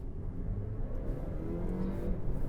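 A 2023 Dodge Hornet R/T plug-in hybrid small SUV accelerates in sport mode, giving a steady, fairly loud low engine drone that builds gently over a couple of seconds with no talking.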